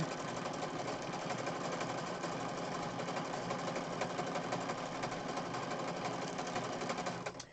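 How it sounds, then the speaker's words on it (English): Sewing machine stitching through junk journal pages from top to bottom, a steady rapid mechanical whirring and clatter that runs unbroken and close before stopping at the end. "So you just add little stitches. Little stitches. Little stitches. And this time I'm going to go from the full top to the bottom."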